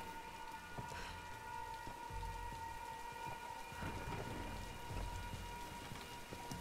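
Steady heavy rain pours through a storm in the 2013 Tomb Raider video game, with low rolls of thunder rumbling underneath and a few sharper bursts, constant and enveloping, with no voices.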